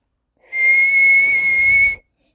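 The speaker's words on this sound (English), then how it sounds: "Peggy blew her whistle." One sharp whistle blast, loud, close and steady, holds for about a second and a half before cutting off cleanly, with silence before and after.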